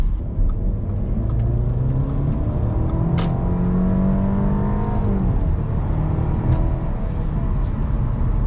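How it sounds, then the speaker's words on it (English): A 2014 Audi A5 2.0T Premium Plus with 100k miles accelerates at full throttle, heard from the cabin. The engine drones steadily and climbs in pitch through the gears, with a brief dip at the shift. "So punching it, this car doesn't get up to speed very quickly."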